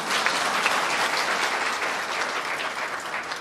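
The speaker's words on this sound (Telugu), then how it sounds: "అసలు కట్టిన వాళ్ళు వాళ్ళ గట్టి కొట్టాలి చప్పట్లు మనం." A large crowd applauds loudly and continuously at a Telangana government building inauguration in Rajanna Sircilla, a dense, sustained roar of clapping hands that only eases slightly toward the end.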